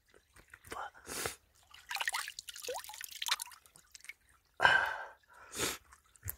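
Face washed with cold water at the Geumgang spring in the mountains: scattered splashes and drips in separate bursts, close by, between quiet gaps with soft breaths and gasps.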